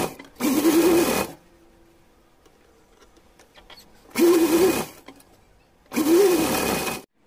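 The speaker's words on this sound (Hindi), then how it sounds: "पलटने के बाद इस तरीके से इसे सिलाई लगा ली और यहाँ से यहाँ तक के किनारों पर सिल देंगे।" A sewing machine stitches the edges of a small dress for a Laddu Gopal figure, running in three loud, steady bursts of about a second each, separated by quiet pauses.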